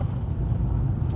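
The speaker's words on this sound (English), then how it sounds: "Why is there so much traffic over here?" Road traffic with cars passing: a steady, close low rumble of engines and tyres, continuous and unbroken.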